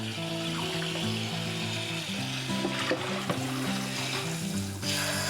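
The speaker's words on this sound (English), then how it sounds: "I've rinsed these 3 times. And I'll fill this up and let it soak." Tap water rinsing and filling a bowl to soak sprouts in a home kitchen, a steady close hiss and splash running under background music.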